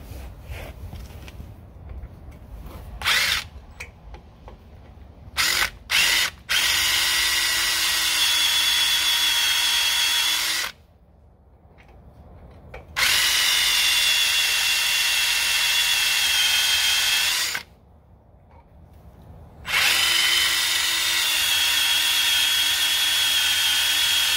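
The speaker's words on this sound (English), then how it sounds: "we will be stepping it up to a quarter inch drill bit" A power drill with a quarter-inch bit bores out spot welds on a Toyota 4Runner, running in three long sustained whining bursts separated by pauses, after a few short clanks and taps.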